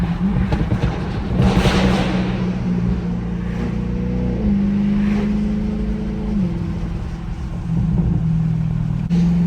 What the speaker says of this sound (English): Might be able to hear the exhaust note better with all these cars beside me.